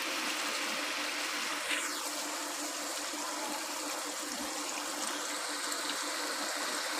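Water pours steadily into a pot of desi chicken shorba seasoned with turmeric and black pepper, a continuous close trickling and splashing stream with no talk over it.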